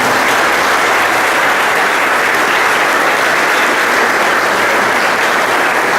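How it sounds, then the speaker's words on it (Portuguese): Church congregation at a baptism-style welcome for parents and godparents bursts into warm applause, a dense, even wash of many hands clapping, loud and sustained with no talk over it. "com uma calorosa salva de palmas"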